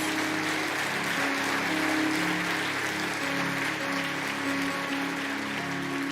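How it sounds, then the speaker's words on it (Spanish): A church congregation applauds in worship, a dense continuous wash of clapping from many hands at moderate level, with a sustained music tone running underneath throughout. "Dale ese fuerte aplauso a Dios."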